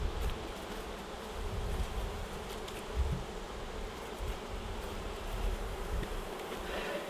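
Honeybees buzz in a soft, continuous swarm drone while being moved from one hive to another, two colonies to winter together, with scattered louder passes of individual bees close by and no voices.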